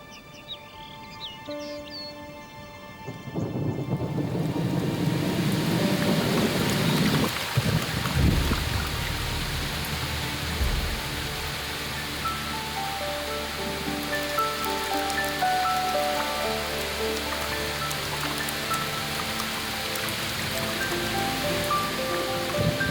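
Steady heavy rain from a thunderstorm in a European wildlife setting, arriving after a few seconds of birdsong and then pouring continuously at a loud, even level with dense patter and no talk.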